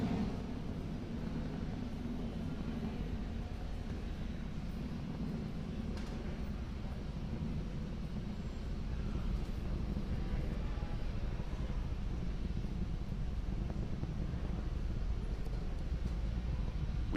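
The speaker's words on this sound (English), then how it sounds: "That Falcon 9 rocket is now throttling back up to full speed as it ascends through the atmosphere." SpaceX Falcon 9 rocket engines throttling up during ascent, a steady distant low roar and rumble filling the whole stretch without a break.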